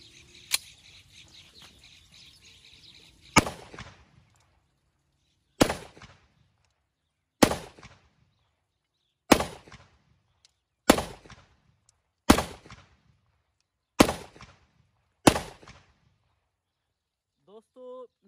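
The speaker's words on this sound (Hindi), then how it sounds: "अभी इसके ऊपर टेस्ट फायर करते हैं, चेक करें जस्तावा 30 बोर की साउंड क्वालिटी" Test shots from a Zastava 30 bore pistol fired at a Kynoch 9mm ammunition box: eight sharp, loud reports spaced roughly two seconds apart, each with a short echoing tail, over quiet outdoor background.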